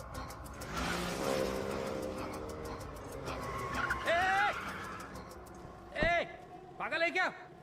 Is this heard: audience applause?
no